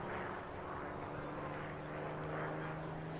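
A vintage warbird propeller aircraft performing aerobatic rolls at the Jones Beach Air Show, a continuous droning engine roar heard from a distance, steady and moderately loud, with faint voices in the background.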